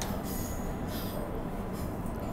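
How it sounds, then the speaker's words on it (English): A High Wycombe passenger train rolls past near Bayswater with a steady broadband rumble and faint wheel hiss throughout, no voices. "So there goes this next High Wycombe train"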